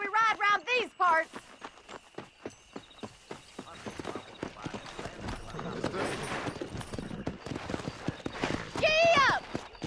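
Horse hooves clip-clopping and picking up into a gallop in the western video game Red Dead Redemption, a steady rhythmic thudding with a horse whinny near the start and again near the end.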